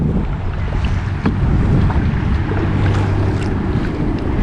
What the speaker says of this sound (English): the wind's blowing again